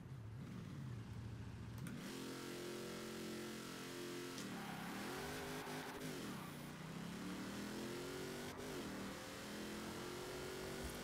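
A Hot Wheels Bone Shaker with a racing V8 launches in Forza Horizon 4, the engine holding a steady buzz, then revving hard through repeated rising pitch sweeps as gears change, loud and close with no talk.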